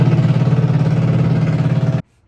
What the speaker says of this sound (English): they're drilling holes in our boat